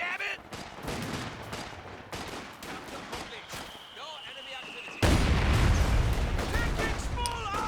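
Rapid bursts of infantry small-arms and machine-gun fire from a World War II real-time strategy game, crackling continuously with sharp shots and explosions, growing louder and denser in the final seconds.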